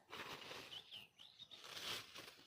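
Sparrows fluttering in a sugarcane field, a soft airy rush of wingbeats with a couple of thin chirps, faint and somewhat distant.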